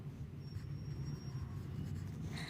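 Writing on a board during a grammar lesson: a soft, continuous scratchy stroke of marker or chalk, close and faint, with a brief tap near the end and no speech.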